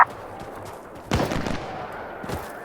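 Gunfire in the tactical shooter game Insurgency: Sandstorm, a single loud sniper crack with a short rolling echo, followed by a fainter distant shot.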